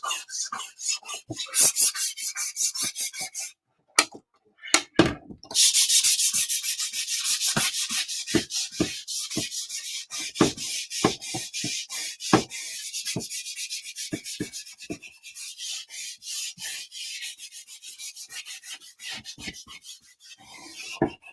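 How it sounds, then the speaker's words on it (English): A wooden picture frame is sanded by hand in long stretches of dry, rhythmic rasping strokes, close and fairly loud, with a couple of short pauses between passes. "So I'm just sanding it a little bit."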